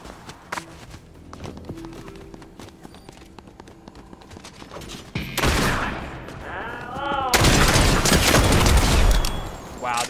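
Shotgun blasts go off in a shooter video game, with a sharp burst midway followed by louder, heavier booming fire over a busy background of footsteps and gameplay noise.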